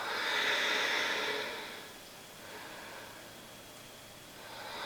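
Deep, slow breathing during a vinyasa yoga flow: a long airy exhale fades out, then a softer breath follows, close and quiet with no talking.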